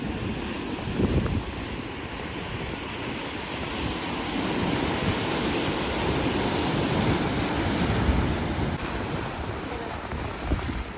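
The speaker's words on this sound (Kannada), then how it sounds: "ಅಲೆಗಳ ರಭಸ ಬೀರೆ ಸಿಕ್ಕಾಪಟ್ಟೆ ಇದೆ" Strong sea waves at Alvekodi, Bhatkal, roar continuously, close and loud, mixed with gusting wind and a steady rush of surf; no one speaks.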